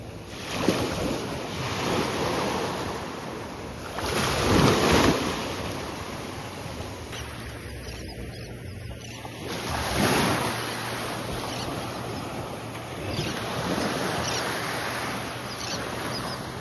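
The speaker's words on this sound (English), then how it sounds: "Here we are in the north beach of Port Salto, and this is in Florida." Ocean waves rolling onto a north beach in Florida, a steady broadband wash with louder surges breaking every few seconds, mixed with wind buffeting the microphone; no one speaks.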